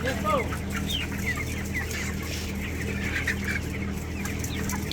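Chickens cluck steadily in an enclosed poultry shed, with a constant low mechanical hum underneath and a few higher bird calls scattered throughout.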